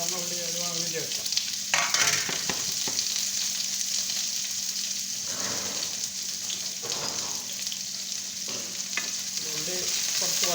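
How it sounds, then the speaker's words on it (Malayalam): White onions frying in hot oil with crackling cumin seeds for an eggplant gravy, giving a steady close sizzle with a few louder scraping stirs and sputtering bursts. "കുറച്ച് ജീരകം പൊട്ടിച്ചിട്ട് ഉള്ളി ഇടുക."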